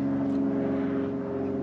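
Steady low drone of an airplane flying low overhead on its approach path to McKinney Airport, a continuous loud rumble with layered engine tones holding throughout, no talk.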